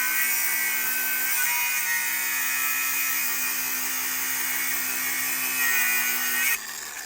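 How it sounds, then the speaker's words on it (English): A drill bores out a snapped bolt on a Mini Cooper S R53 track build, giving a steady, high, grinding whine that runs for several seconds before easing off abruptly near the end. "We're now drilling that out."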